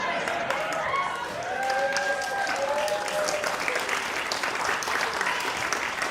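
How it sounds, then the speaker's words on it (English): Theatre audience claps steadily at a performance of The Curious Incident of the Dog in the Night-Time, a dense, even wash of applause with faint voices mixed in throughout. "Thank you very much for clapping"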